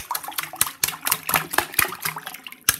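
Drinking water sloshes and slaps inside a water-filled rubber glove balloon tied to the fingers, a rapid series of wet squelches and splashy knocks with irregular rhythm, close and fairly loud.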